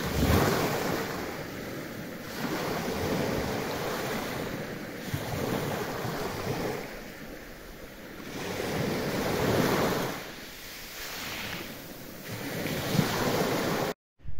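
Sea waves roll onto the shore of a bay on the Crimean coast in slow repeated surges, with steady wind rushing across the microphone throughout.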